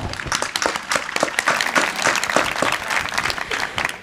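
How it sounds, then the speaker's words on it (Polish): Lively audience applause at a panel discussion on feminism, with crisp overlapping claps and a few sharper individual hand claps standing out, steady for the whole stretch. "Brawa."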